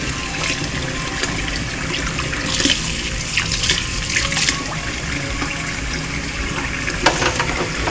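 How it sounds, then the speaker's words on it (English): Organic beets with purple stems are rinsed under cold running tap water in a sink. The stream splashes and trickles steadily and close, with a few louder splashes as the beets are handled. "I'm washing them in cold water."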